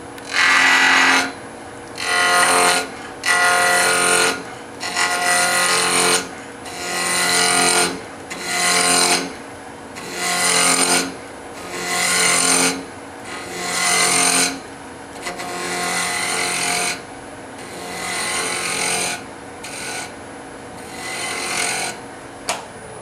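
Skew chisel taking a peeling cut on a wood lathe while turning a hard wooden acorn box, loud rasping bursts of a second or so repeating in a steady rhythm with short gaps as the tool engages and lifts.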